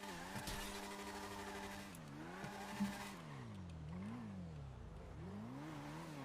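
Car engine in a GTA roleplay game, steadily droning and revving up and down as the vehicle drives, rising and falling in pitch continuously, loud and close with no talk over it.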